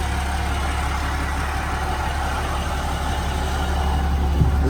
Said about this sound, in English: He has no muffler. That's why I have to do the exhaust on it, because I do not like it this loud.